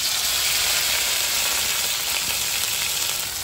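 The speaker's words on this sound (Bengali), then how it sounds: "তেল গরম হয়ে গেছে, মশলাটা দিয়ে দিচ্ছি।" Spices tipped into hot oil in a wok give a loud, continuous sizzle close by, with no talking.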